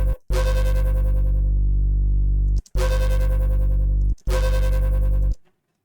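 A Serum synth bass with its distortion reduced plays three sustained notes separated by short gaps, heavy sub with a bright buzzy top, loud and dry, ending in silence.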